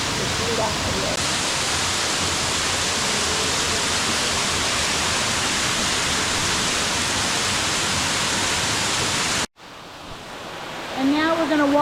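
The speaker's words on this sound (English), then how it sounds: "And now we're going to walk right behind this waterfall. This is the Cavern Cascade." Cavern Cascade, a waterfall in Watkins Glen State Park, gives a loud, steady rushing roar from close by. It cuts off abruptly near the end, and other brief sounds follow.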